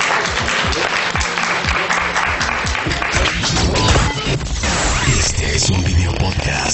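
An audience at a press conference bursts into loud, sustained applause, dense clapping filling the space, with a few voices mixed in.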